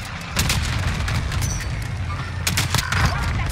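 Gunfire in the Call of Duty Warzone video game, a dense, continuous barrage of booming shots and rumbling blasts, loud and close, with a few sharper cracks standing out.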